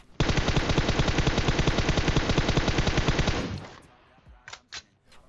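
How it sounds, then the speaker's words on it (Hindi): Rapid sustained automatic gunfire from PUBG Mobile, a loud continuous burst of close shots lasting about three seconds, then silence with a few faint distant clicks. "इधर पे मैं दोबारा से दो गोली पेलता हूँ"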